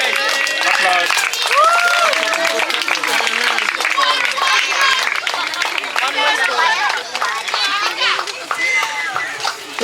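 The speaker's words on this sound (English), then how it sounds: "Applause." Applause from a storytelling audience with many children after a sung Rickety Ricketa piece, busy clapping mixed with lively kids' voices and chatter throughout.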